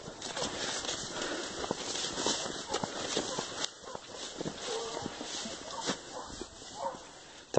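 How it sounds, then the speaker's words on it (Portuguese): A pack of hunting dogs barking and yipping in the distance during a hunt, scattered overlapping barks with faint whimpers against outdoor ambience. "Cachorrada nova."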